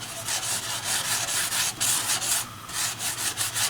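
A paintbrush scrubs acrylic paint onto canvas in a close, rhythmic back-and-forth rasping, about three strokes a second, steady and alone.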